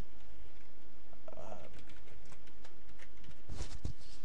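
Rapid, close-up clicks of fingers typing on a computer keyboard, a short irregular run of keystrokes in a quiet room.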